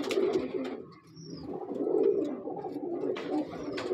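Teddy breeder pigeons at a loft in Lahore give soft, steady cooing, a low murmuring warble that rolls on without a break, close and moderately loud, with no talking over it.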